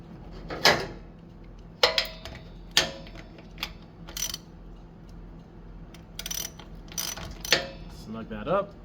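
Oil drain plug being tightened on a Yamaha C3 scooter: a series of separate metallic ratchet clicks and clanks at irregular intervals, close by, with short quiet gaps between them.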